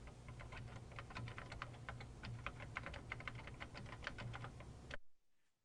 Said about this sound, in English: The selected text is replaced by typing on the keyboard.